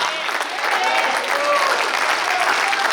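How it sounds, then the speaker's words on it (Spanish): A congregation at a church service claps in a steady wash of applause that swells slightly partway through, with voices mixed in among the clapping. "Si usted le va a aplaudir, apláudale con gozo al Cristo de la gloria"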